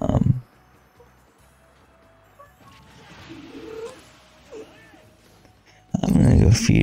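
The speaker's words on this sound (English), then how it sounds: "My cat's making noises." A pet cat makes a few soft meows and chirps close by, faint and brief, between louder stretches of game sound at the start and end.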